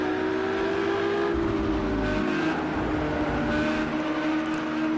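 GT3 race cars circulating at Daytona under caution in the Project Cars 2 video game, a continuous droning engine whine with a steady pitch that dips slightly, heard from a chase view behind the pack, constant and moderately loud throughout.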